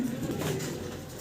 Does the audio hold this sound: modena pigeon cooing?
yes